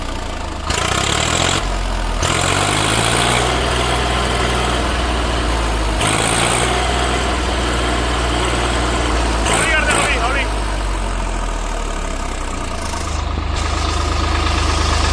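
A tractor fitted with a Kirloskar engine runs close by, its steady low diesel chug rising and falling as it is revved, while people talk over it.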